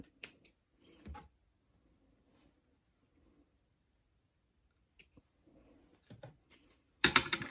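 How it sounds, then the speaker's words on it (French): Scissors snip through strings on a rustic wedding album cover, a few quiet sharp clicks and snips spaced apart amid near silence, ending with a louder burst of rustling handling. "On va couper les ficelles."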